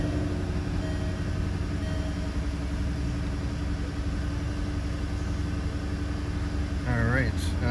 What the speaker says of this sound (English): Love the exhaust.